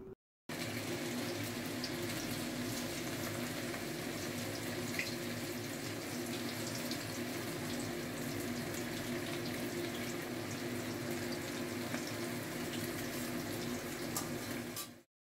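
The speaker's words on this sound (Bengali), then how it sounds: "এবার একটা একটা করে মাছ তেলের মধ্যে ছেড়ে ভেজে নেওয়া হবে" Amodi fish dropped one by one into hot oil in a wok, giving a steady, dense sizzling hiss that stays loud and even throughout with no talking.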